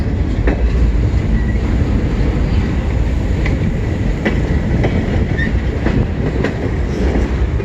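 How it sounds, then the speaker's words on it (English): A CN M382 freight train passes close by, its loud steady rumble filling the scene with rhythmic clickety-clack from the wheels and brief metallic squeals, continuous and without speech. "Finally, we got a close-up train."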